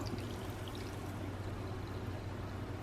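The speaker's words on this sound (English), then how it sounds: "Now that it is all mixed, I'm going to pour this into my glass." Whisked matcha pouring steadily from a vessel into a glass, a continuous close liquid stream with soft gurgling and no talk.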